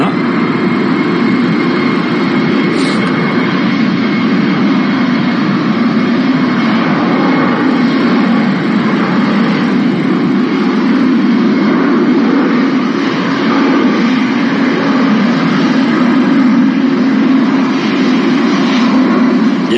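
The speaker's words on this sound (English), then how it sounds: "That's an A320, all right. Airbus's most popular airliner." An easyJet Airbus A320 airliner roars steadily as a loud, continuous broadband jet rumble with no break, heard from fairly close.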